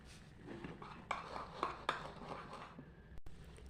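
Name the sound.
mixing cake batter in a bowl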